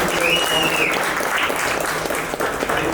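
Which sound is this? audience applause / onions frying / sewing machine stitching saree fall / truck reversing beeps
audience applause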